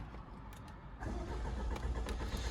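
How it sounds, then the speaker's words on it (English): Jaguar XE 2.0d R-Sport diesel with automatic gearbox cranks briefly, then catches around the one-second mark and settles into a steady, close diesel idle. "Just start up the car for you."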